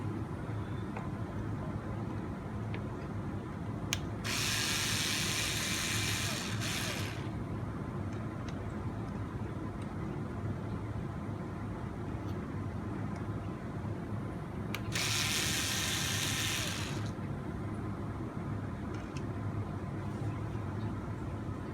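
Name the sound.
driver removing screws from RC car rear axle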